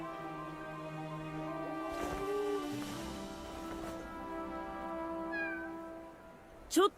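A cat meows a few times, faint and somewhat distant, with a short sharper cry near the end over a quiet background hum.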